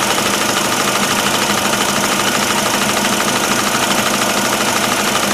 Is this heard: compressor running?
yes